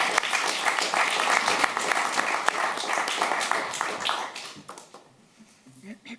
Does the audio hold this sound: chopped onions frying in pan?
no